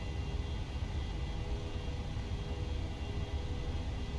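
Boeing 737 jet engines spooling at takeoff thrust in a flight simulator, a steady heavy roar with deep low rumble and broadband hiss, continuous and loud without pauses.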